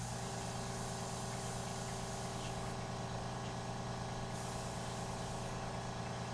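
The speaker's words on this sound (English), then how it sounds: "turn off my compressor" An airbrush air compressor runs continuously nearby, a steady humming drone with a faint hiss on top that stays even and unbroken.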